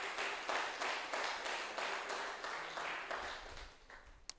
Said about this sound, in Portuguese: com palmas para Jesus